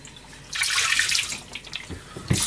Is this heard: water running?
yes